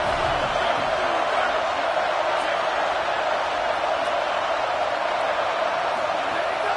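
A football stadium crowd at a Texas Tech game roars as a steady, broad wash of noise, loud and continuous without clear peaks, beneath it a faint voice.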